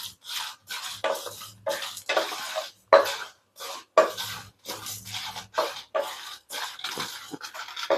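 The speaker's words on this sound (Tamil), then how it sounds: "எல்லாம் நல்லா ட்ரையாக வறுத்துக்கணும்" Whole spices are stirred while being dry roasted in a pan over a medium flame, making a steady, rhythmic run of close scraping and rustling strokes with no talking.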